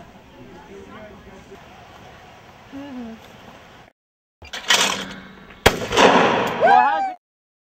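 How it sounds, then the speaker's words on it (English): Gunshots ring out during shooting activities at Camp Rocky, a youth camp once run by 4-H. Someone talks first, then a few loud, sharp outdoor bangs follow with short echoing tails. "has had shooting as part of the activities that are up here"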